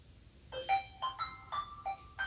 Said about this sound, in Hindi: ये फ़ोन आ गया उसका